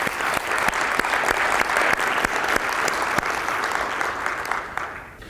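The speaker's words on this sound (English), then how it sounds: "So let's give her a round of applause and welcome Melanie up to the stage" Keynote audience claps steadily and loudly to welcome a speaker to the stage at a health policy conference, the dense applause holding for about five seconds before tapering off.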